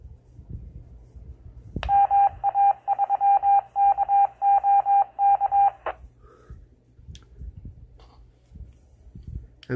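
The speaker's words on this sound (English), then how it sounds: "We're going to key the repeater." A Retevis RT10 900 MHz handheld radio keying a ham repeater: a sudden burst, then roughly four seconds of rapidly repeating beeping tones, loud and clear, fading into quiet background noise.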